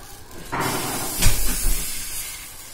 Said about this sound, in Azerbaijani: Möhkəm qızdırılmış tavanın içərisinə bir qədər xəmir əlavə edib kiçik bilinçiklər hazırlayırıq.